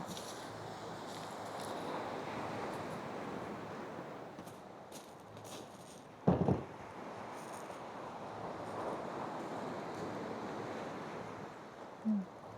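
Sea waves wash onto a beach on the Amalfi Coast in a soft, continuous surf hiss mixed with wind, with a couple of brief nearby knocks.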